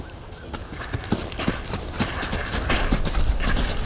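A horse lopes during a riding session, its hoofbeats thudding in a steady three-beat rhythm that grows slightly louder and closer, with no talking.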